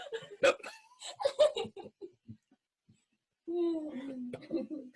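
A sharp hiccup-like gasp cuts through laughing, giggly talk, followed by a pause and then more voiced, strained sounds.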